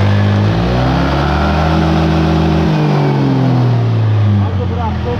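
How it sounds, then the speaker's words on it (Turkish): Arora Max-T150 scooter engine revved with the throttle during front variator servicing, a loud close drone that rises and holds, then drops back toward idle. "Gaz verince ön varyatöre bakıyoruz."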